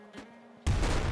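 An assault rifle in Nuclear Throne cuts in abruptly as a loud, dense burst of rapid gunfire after a brief quiet lead-in.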